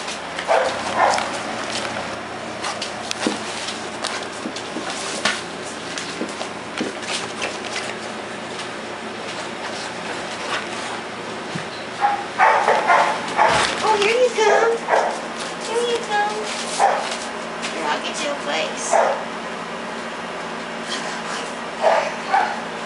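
Five-week-old puppies yip and whimper in bursts amid busy background noise, with a person talking over them at times.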